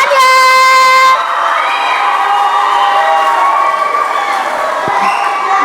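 Audience at a KPU and Bawaslu democracy workshop in Kendal cheering and clapping loudly, a dense sustained crowd roar that starts abruptly under an electronic tone and continues throughout.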